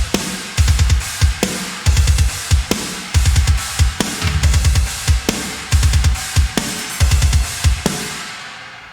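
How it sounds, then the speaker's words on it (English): Sampled metal drum kit from Panda Shots, heavily processed, pounding out repeated bursts of rapid, massive kick drum hits with cymbals crashing over them, loud and tight in a driving pattern with short gaps. "inside the sampler, and this is the sound of the kit"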